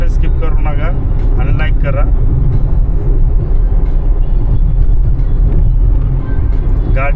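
Steady low road rumble and engine drone from inside a moving car, continuous and fairly loud throughout, with a few brief voice-like sounds near the start.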